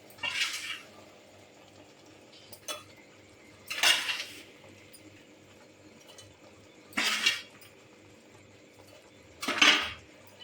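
A spoon scrapes and clinks against a pan while flour and edible gum are stirred together for methi ladoo, four separate bursts of metallic stirring with quiet gaps between them.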